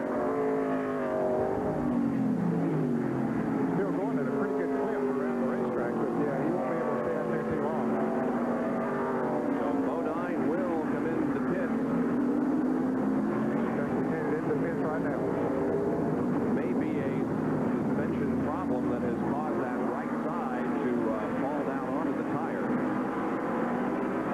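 Dick Johnson's race car engine drones steadily at full throttle during a 1989 stock car race, a loud continuous roar with shifting pitch, heard beneath a commentator talking throughout.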